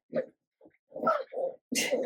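Puppies at a home puppy daycare let out a few short whimpers and yips, close by, in quick separate bursts over about two seconds, with brief silences between them.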